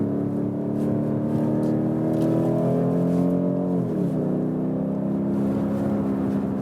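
A BMW M850i 8-Series coupé drives through countryside corners, its engine humming loudly and steadily from inside the cabin, the pitch dropping smoothly midway as it eases off before holding again.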